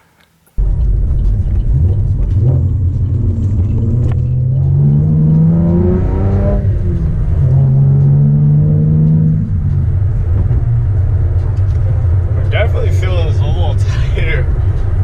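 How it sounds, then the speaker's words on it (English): 2012 Chevrolet Camaro V6 on a test drive, heard as a loud, steady engine drone and road rumble from inside the cabin, with a couple of revs rising and falling and someone talking over it. "we're going to take it for a test drive and we'll see how it goes"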